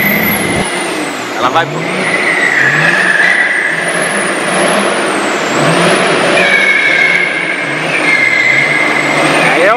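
A Ford F-150 pickup truck does a burnout, the engine revving hard while the spinning tires give a wavering high squeal throughout, with people talking over it.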